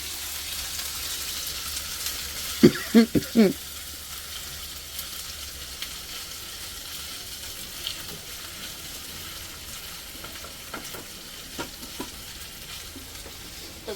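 Onions frying with ginger-chili paste in a pan for samosa filling, a steady close sizzle with a cluster of sharp clatters and stirring knocks early on, no talk.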